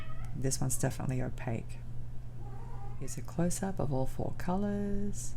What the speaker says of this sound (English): And if you heard some meowing, it's because my cat's having the zoomies right now.